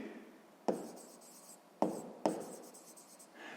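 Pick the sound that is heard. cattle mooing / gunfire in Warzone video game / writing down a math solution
writing down a math solution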